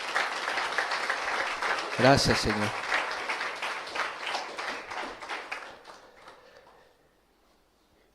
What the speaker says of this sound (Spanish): Yo no sé si quieras darle otro aplauso al Señor por esto.